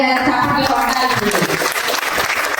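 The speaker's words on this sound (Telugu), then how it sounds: "కాబట్టి మనం ఒకసారి గట్టిగా వేమారెడ్డి గారి చప్పట్లు కొట్టాల్సింది." An audience at a women's day event held by a party's women's wing applauds in a dense, sustained wash of clapping, with voices mixed in and a cheer near the start.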